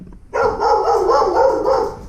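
A dog gives one loud, close, drawn-out bark or howl that starts abruptly and holds for nearly two seconds, alone without talk.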